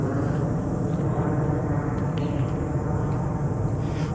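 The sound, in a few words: airplane flying overhead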